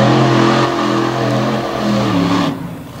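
A Hemi-powered truck engine bogs down during a wheelie at a dirt motorsport event in Beckley, West Virginia, loud and close, its revving pitch sagging and recovering before dropping off.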